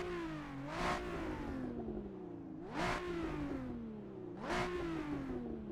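Race car engine in Assetto Corsa, a street car heavily modified into a track machine, revving in three rising surges a couple of seconds apart with a steady mid-pitched drone between, close and clear.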